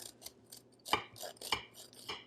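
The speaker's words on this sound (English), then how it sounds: "get a serrated knife, just like this, okay? And then just cut in" A serrated knife cuts into a homemade blueberry crumb cake, making several short, crisp sawing and crunching strokes in an uneven rhythm, close up with no talking.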